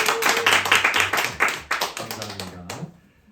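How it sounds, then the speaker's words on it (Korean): An audience in a church hall claps in applause, a dense burst of hand claps that thins out and stops after about three seconds. "박수로 크게 격려해 주시길 바랍니다"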